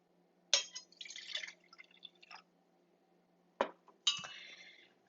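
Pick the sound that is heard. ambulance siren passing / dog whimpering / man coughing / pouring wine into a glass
pouring wine into a glass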